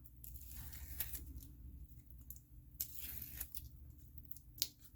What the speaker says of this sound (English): Let's pull the tape off.